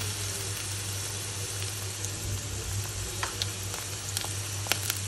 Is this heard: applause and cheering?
no